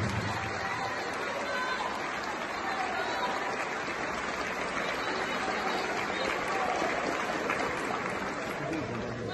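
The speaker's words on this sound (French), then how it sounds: "Applaudissez-vous encore une fois, s'il vous plaît." An audience at a public talk applauds, a steady, dense wash of clapping that holds at an even level from start to finish, with a faint murmur of crowd voices mixed in.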